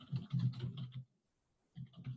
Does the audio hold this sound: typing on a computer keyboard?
yes